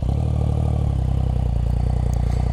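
A 2016 Yamaha FZ09/MT09 motorcycle engine runs close by with a steady, pulsing mechanical throb, idling and clattering loudly on its own near a golf course area.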